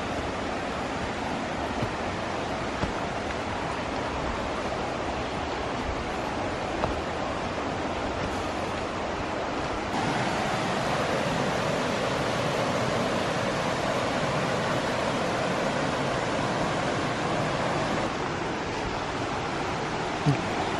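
A river and the Tesoro Escondido waterfall rush steadily with a broad, unbroken roar of flowing water, loud and close, with no voices over it.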